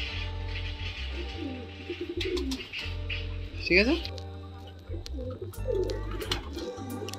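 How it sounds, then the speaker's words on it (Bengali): Dobaz pigeons coo in a loft, low throaty burbles rising and falling across the stretch, with a few chirps, close by and mixed with brief talk. "দেখুন দাদার ঘরে আর একটা দোবাজ নর পায়রা"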